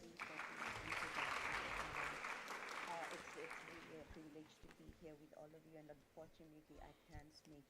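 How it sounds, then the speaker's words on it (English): A round of applause at a live-streamed online event, fairly brief and soft, fading after a few seconds as a person begins talking. "We can give our round hand of applause."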